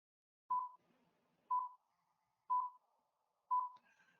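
A Riedel Logic GPIO one-shot sounds a short electronic beep four times in a steady rhythm, about one second apart, each tone clean and mid-pitched against near-silence.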